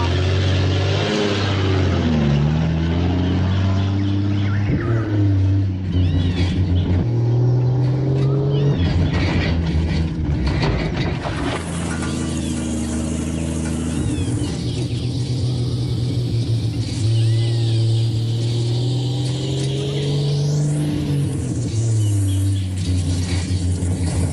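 A car drives fast along a rough, bad road, its engine droning and rising and falling in pitch throughout, with jolts and rattles over the bumps and people talking over the noise.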